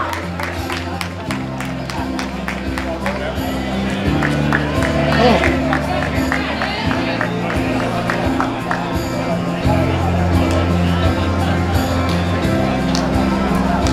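Spectators clap and cheer at the finish of the Abrera running race, a sustained mass of applause with crowd chatter and an announcer talking over it, swelling louder partway through.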